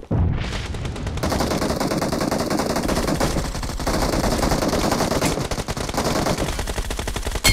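Automatic gunfire in a shooter video game rattles in loud, dense, rapid bursts with almost no pause, strong and close throughout.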